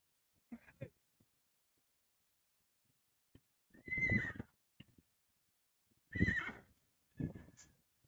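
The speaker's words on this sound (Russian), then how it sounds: "Это вам уже конь." A wild horse being loaded in stormy wind neighs in several loud, close whinnies, each a burst of under a second, separated by silent gaps and a few faint knocks.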